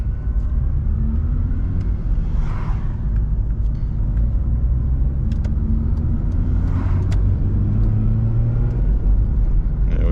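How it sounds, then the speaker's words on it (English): A car approaches on the road, heard from inside a moving Mazda RX8 as a steady low road-and-engine rumble with faint swells as traffic passes. "oh, there's a car coming here."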